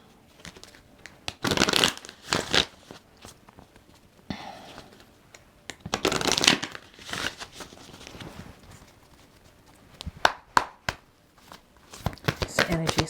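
An oracle card deck is shuffled in quick riffling bursts, soft and close, interspersed with pauses and light handling of the cards.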